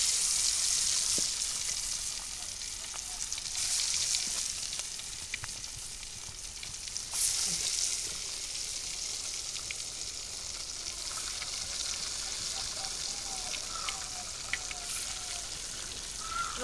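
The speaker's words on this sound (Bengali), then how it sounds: "তেলটা গরম হয়ে গেছে, আমি মাছটা দিয়ে দিলাম।" Small fish frying in hot oil in a village kitchen, a steady broad sizzle and crackle running throughout with occasional louder pops, close and continuous with no talk.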